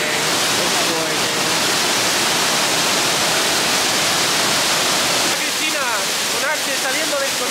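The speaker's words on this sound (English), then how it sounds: "We made it to the waterfall, but they didn't join the water, which I want to jump in." Waterfall at Las Terrenas in Samaná, Dominican Republic, roaring as a steady, loud broadband rush of falling water that fills the whole clip, with a voice briefly audible over it near the end.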